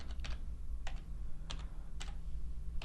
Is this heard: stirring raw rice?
no